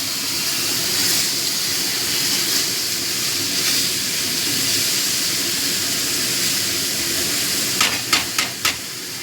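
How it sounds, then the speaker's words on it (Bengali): Onion frying in plenty of oil for a Bengali lotte fish dish, a steady loud hiss and sizzle that runs throughout, with a quick series of four sharp taps near the end. "পেঁয়াজটা আবার একটু লাল লাল করে ভেজে নেব। এই রান্নাটায় তেল একটু বেশি লাগে।"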